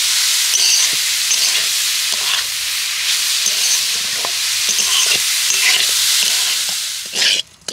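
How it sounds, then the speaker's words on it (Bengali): A coconut and sugar syrup mixture for naru, a coconut sweet, is stirred steadily in a hot pan, with a continuous bubbling sizzle and repeated soft scrapes of the spoon throughout, close and alone. "এইভাবে কিন্তু অনবরত নাড়তে হবে"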